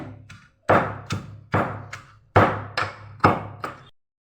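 Ingredients including tomato pounded by hand for a rustic village-style Gujarati chutney: eight heavy, evenly spaced thuds in a steady rhythm, close and fairly loud, with no talking.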